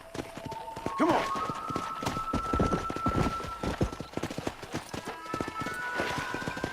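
A horse gallops while herding cattle in Red Dead Redemption, with rapid rhythmic hoofbeats close by, a brief whinny, and a voice calling out over the running.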